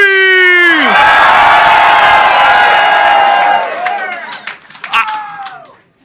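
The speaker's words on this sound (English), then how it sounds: "If you want 4 more years of Donald Trump, let me hear you scream" Political rally crowd in Laconia, New Hampshire, screaming and cheering loudly in a sustained roar with whoops and clapping, then fading into scattered shouts and a final burst before trailing off.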